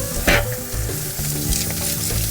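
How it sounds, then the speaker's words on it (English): Thick ribeye steaks hitting a hot grate over open fire at a catering cookout, a loud close sizzle and crackle with bursts as the meat lands, no talking. "Two very nice thick ribeye steaks. We're gonna lay them down and watch them"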